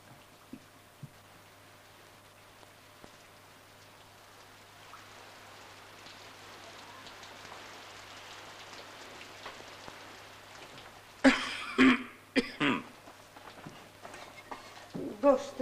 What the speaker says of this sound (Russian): Дождь-то какой.